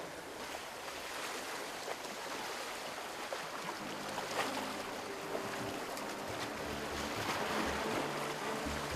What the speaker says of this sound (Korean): 그 사이에도 소매물도엔 관광객을 실은 배가 오간다.